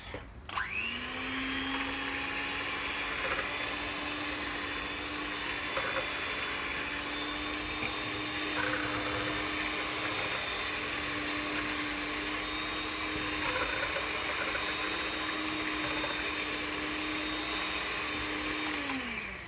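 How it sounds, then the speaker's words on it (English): A kitchen blender whirs through dal makhani ingredients with a loud, steady motor roar that starts abruptly and runs unbroken for nearly twenty seconds before cutting off. "I'm going to blend it"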